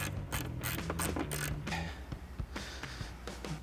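A hand ratchet fitted with a 10 mm socket clicks rapidly and steadily as it tightens a nut on a 2019-2024 RAM 2500 while fog lights are installed. The clatter is close-up and continuous, with no voices.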